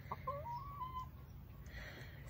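A mother hen with day-old chicks gives a few soft clucks and short warbling calls over a quiet, low background hum.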